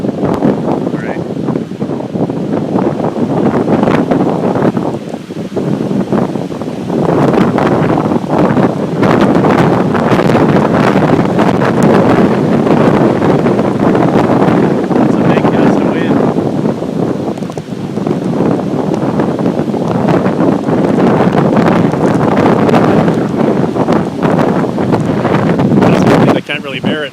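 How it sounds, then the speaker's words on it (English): Strong south wind roars and buffets the microphone almost without a break during a March storm on the Tofino coast, with waves rumbling beneath the gusts and a voice partly buried in the noise. "So it's a south wind with this storm"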